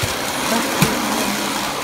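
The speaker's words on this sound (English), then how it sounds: "So I'm just gonna vacuum it right now." A vacuum cleaner runs steadily while a bedroom is vacuumed, a constant broadband motor roar close to the mic with one brief knock partway through.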